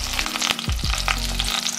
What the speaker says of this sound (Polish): I obsmażam po drugiej stronie.